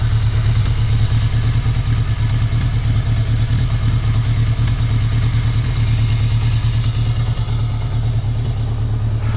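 A 1981 Yamaha XS1100 Special motorcycle engine idles on its own, close and steady, with an even, throbbing low rumble and a light mechanical clatter that holds for several seconds.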